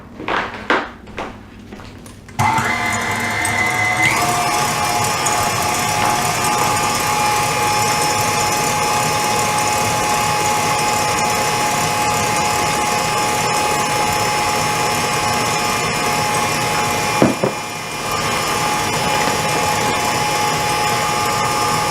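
Electric mixer beating egg whites as yolks and flour are added, a steady loud whirring drone that starts abruptly after a few seconds of clatter and runs continuously, with a brief bump partway through.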